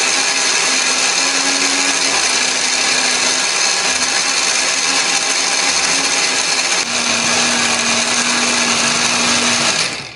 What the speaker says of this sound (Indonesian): ini biar lebih gampang untuk blendernya